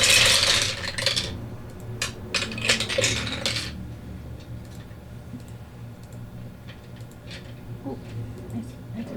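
Several weapon dice roll across a table during a tabletop role-playing game, a burst of hard clattering and clicking that settles after a few seconds into fainter, scattered ticks, with people talking throughout.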